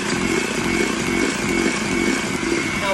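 An electric mixer whirs at a steady high pitch as it beats lemon olive oil cake batter with milk and citrus zest, loud and continuous, with a faint rattle of beaters against the bowl.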